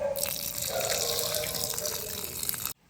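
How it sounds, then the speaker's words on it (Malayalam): Water gushes and splashes steadily for nearly three seconds as it is drained off a cooking pot, then cuts off abruptly. "അപ്പോൾ ഇത് വെള്ളം ഊറ്റിയിട്ട് അവിടെ കൊണ്ടക്കാ"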